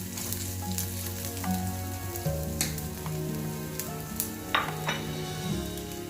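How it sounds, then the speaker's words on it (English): Cumin seeds sizzle in hot oil over a low flame, a close, steady crackling fry with sharp pops scattered throughout. "Now add jeera or cumin seeds. Keep the flame low."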